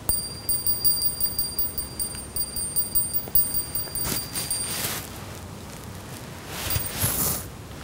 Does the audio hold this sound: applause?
no